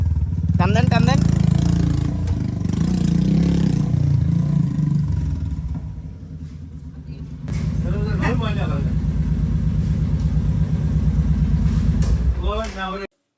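A Royal Enfield Classic 350 motorcycle engine revs loudly at close range, the throttle opened twice with a steady thumping idle between the pulls, while voices talk over it.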